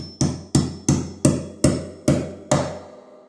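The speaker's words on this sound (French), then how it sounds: "Poussez autant que possible avec la main et avec un petit marteau ou une marteau d'accord" A small hammer or tuning hammer taps on a harpsichord while a string is being changed. Seven sharp, evenly spaced knocks ring close and clear, each with a short decay.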